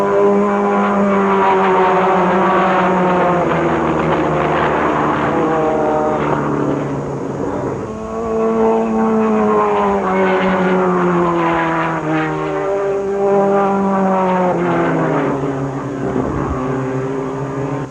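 Open-wheel race cars pass on the track at the end of a pace lap. A loud, continuous engine drone with sweeping pitch changes builds and fades as the cars go by one after another, with no talking.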